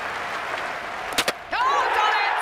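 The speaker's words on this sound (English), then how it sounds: "Now just listen to this crowd." A packed cricket crowd at the Oval roars steadily throughout, with a brief pair of sharp bangs near the middle before the noise surges louder and a rising whistle or yell cuts through at the end.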